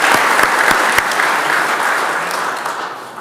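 Steady, dense applause fills a parliamentary chamber of the Republic of Tatarstan after a call to thank an outgoing official, with a few sharp claps standing out early before the clapping slowly thins toward the end.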